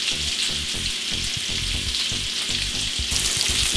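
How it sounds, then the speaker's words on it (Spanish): Pineapple, bacon and onion sizzle steadily in a hot pan while being flipped, a dense close frying hiss broken by soft stirring scrapes, with no talking. "Sigo volteando, voy volteando la cebolla y la piña, que se vaya asando la piña con la tocineta y la cebolla."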